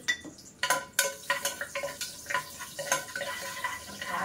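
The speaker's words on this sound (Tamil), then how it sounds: "எண்ணெய் காய்ஞ்சதுமே நம்ம மிளகு, சீரகம், அப்புறம் முந்திரி பருப்பு இதை போட்டு ஒரு பண்ணலாம்" Spices and cashews crackle and sputter in hot oil in a pan, with sharp irregular pops and stirring scrapes repeating close by, loud and steady with no voices.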